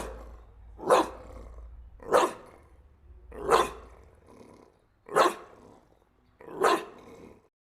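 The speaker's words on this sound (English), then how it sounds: "It involves baring their teeth and producing a low, guttural growl." A dog snarling in anger, five separate low, guttural growling bursts spaced about a second and a half apart, close and alone.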